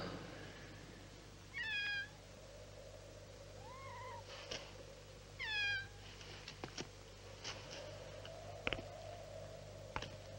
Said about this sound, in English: I told you I could hear a black cat.